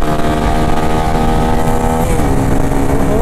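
Two motorcycles, a Honda CB300F and a Bajaj Pulsar N250, race side by side on the road, loud close engine drone with steady harmonics that shift pitch as one bike changes gear, no talk.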